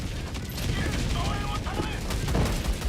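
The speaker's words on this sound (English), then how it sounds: "Oh, I think he walked into my walking barrage" Explosions from a walking barrage artillery strike in Helldivers 2, heard as a dense, continuous rumble of booms and crackling blasts across the whole stretch, with game sounds layered over them.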